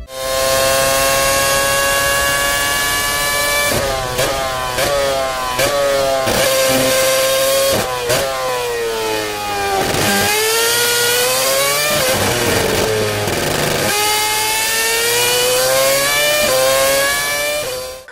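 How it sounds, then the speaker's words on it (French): A high-pitched Renault Formula 1 racing engine screams through repeated revs, pitch rising and falling sharply as it shifts gears, loud and continuous throughout. "ce moteur qui est à l'origine de ce bruit considéré par certains comme le meilleur de l'histoire de la F1"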